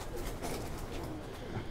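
Soft, continuous cooing from paired pigeons of a Ferozpuri and Faqeergull mix breed in their loft, several birds murmuring close together without pause.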